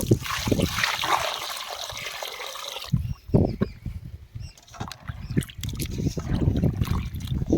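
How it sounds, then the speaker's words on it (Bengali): Cut pieces of mutton fat being washed in water, with splashing and trickling at first, then a pause followed by intermittent sloshes, drips and handling knocks close by. "তো চলো এখন আমরা ফ্রেশ করে ধুয়ে নেব"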